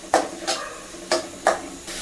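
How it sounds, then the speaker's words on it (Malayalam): Spice powders, including fennel powder, stirred and roasted in a pan for a green peas and potato masala, giving a few separate scraping stirs with soft sizzling between them, close by with no talk. "എന്നിട്ട് ഇതെല്ലാം നല്ലപോലെ ഇളക്കി ഒന്ന് മൂപ്പിച്ചെടുക്കുക."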